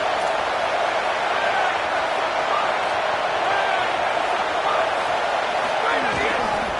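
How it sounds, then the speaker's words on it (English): Football stadium crowd roaring steadily and densely throughout, a broad continuous wash of massed voices loud enough to shake the structure, with a commentator talking over it. "Listen to this crowd just shaking the girders of this place"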